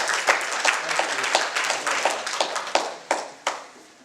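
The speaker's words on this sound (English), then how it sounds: "So let's give him a round of applause for that." An audience at an NAACP Tri-City branch community event gives a round of applause for Commissioner Connor, a steady wash of many hands clapping with a few sharper individual claps standing out near the end, fairly close and continuous for the whole stretch.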